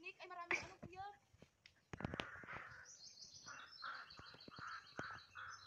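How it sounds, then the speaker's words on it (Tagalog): Several crows call repeatedly in a mountain setting, harsh caws spaced through the clip amid other bird chirps, with a short burst of speech near the start. "Ang daming uwak."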